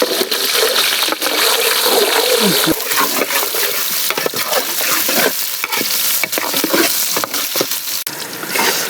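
Chopped onions, capsicum and green chillies fry and sizzle steadily in a pan, with stirring scrapes, for chicken lollipops cooked bachelor style.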